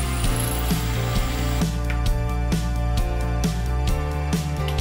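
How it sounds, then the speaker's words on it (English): A machine tool cutting a hole into the second side of an aluminum workpiece for a hand-built 1:24 RC excavator hydraulic pump, a steady tonal whine with rhythmic chattering pulses, loud and close, with no voices. "I reclamped the workpiece to machine the hole on the other side"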